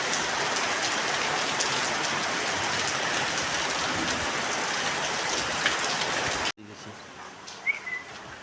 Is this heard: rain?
yes